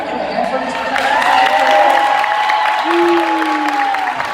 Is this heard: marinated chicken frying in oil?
no